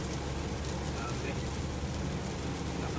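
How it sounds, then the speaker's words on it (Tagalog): Heavy rain on the Skyway in the Philippines beats down in a dense, constant roar with wind-like hiss while a vehicle drives along the soaked road. "Ang lakas ng ulan dito, oh."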